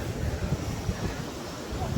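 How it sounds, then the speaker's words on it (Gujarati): Cold mountain wind blows in gusts by the Yamuna river near an iron bridge, a low buffeting rumble over a steady background hiss. "પવન આવે છે ઠંડો"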